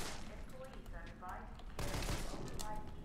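Gunfire in the Resident Evil 3 Remake video game, quiet shots crackling under a voice, then a denser burst of rapid firing in the second half.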